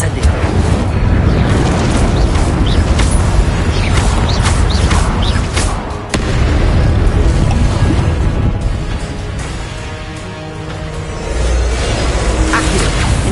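The Incendio fire spell in Hogwarts Legacy produces a loud, continuous roaring rush of flame and rumbling game effects with a brief crackling burst midway, close and dense throughout.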